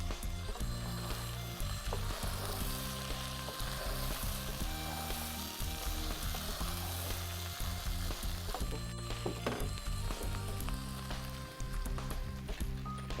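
Ridge gourd, pointed gourd and large chunks of eggplant fry in a pan for a fish-head dish, giving a steady, close, loud sizzle with occasional stirring knocks throughout.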